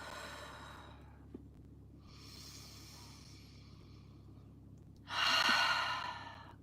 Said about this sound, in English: And taking some deep breaths